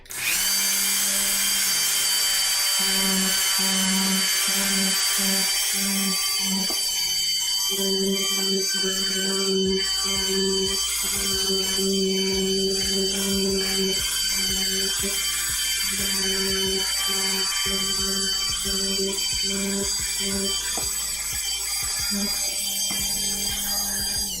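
Dremel rotary tool whining steadily as it trims the edge of a cosplay breastplate, a continuous high-pitched buzz with a pulsing lower drone that persists loud and close throughout.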